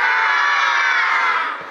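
A crowd of children shouting "hurray" together at a festive children's event, a loud, sustained cheer that holds steady for nearly two seconds before tapering off.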